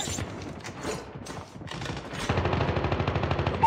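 Rapid automatic gunfire from the mobile shooter Call of Duty Mobile, scattered shots at first, then dense, steady rattling bursts that grow louder and fill the second half.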